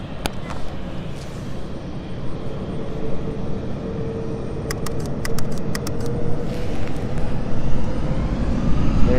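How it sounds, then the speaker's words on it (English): Passenger jet taking off at London City Airport, engine roar building steadily from a rumble to a loud, broad drone that swells toward the end, with a short burst of camera clicks partway through. "the Belfast flight has now been given clearance for takeoff"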